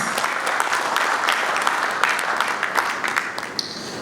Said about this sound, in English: I think we deserve a round of applause for that.